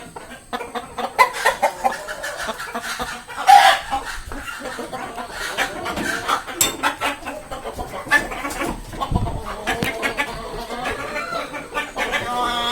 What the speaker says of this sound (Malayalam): മുകളിലത്തെ നിലയിൽ കഴുത്തിൽ ഇല്ലാത്ത നെയ്ക്കണ്ണക്ക് എന്ന് പറയുന്ന നാടൻ കോഴി വളർത്തുന്നുണ്ട്